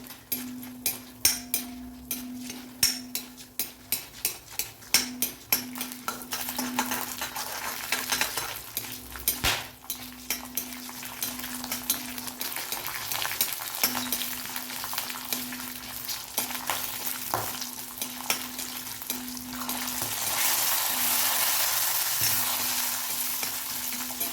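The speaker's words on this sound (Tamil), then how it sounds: "உளுந்து செவந்து வரத்துக்குள்ளே பச்சை மிளகாவும் நல்லா வதங்கிடுங்க" Urad dal and green chillies frying in oil for coriander chutney, a soft continuous sizzle with a run of quick metallic stirring clinks early on, the hiss growing brighter toward the end.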